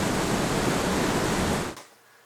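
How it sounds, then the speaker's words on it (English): A loud, dense rush of rapid water, like a churning river or waterfall, holds steady for about a second and a half and then cuts off abruptly into near silence. "First we have the sound of like rapid water."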